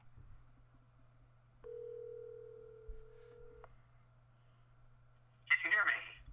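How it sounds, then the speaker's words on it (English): A single telephone ringback tone sounds for about two seconds while a call is placed, a faint steady tone followed by silence and then a brief burst of noise. "Answer your phone, Zach."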